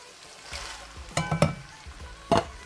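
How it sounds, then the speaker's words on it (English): Spoon stirring ground beef with chili beans and diced tomatoes in a pan, a soft low sizzle broken by a few scraping strokes and knocks against the pan, close and otherwise quiet. "Now I'm going to stir all this around"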